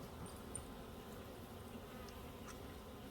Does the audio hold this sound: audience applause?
no